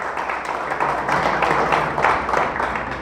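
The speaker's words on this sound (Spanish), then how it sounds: "fuerte el aplauso a nuestro Dios." Sustained applause from a church congregation, many people clapping together in a steady, fairly loud wash with slight surges, murmuring voices faintly underneath.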